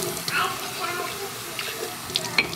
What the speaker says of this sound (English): Then I'm just gonna rinse these again with nice cold water.